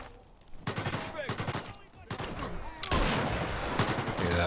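Rifle shots crack in Sniper Elite VR, several sharp reports spaced between bursts of talk, ending in a louder sustained noisy burst.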